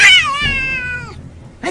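A house cat lets out one long, loud meow that rises and then falls away, with a brief second sound at the end, close to the microphone with no talk.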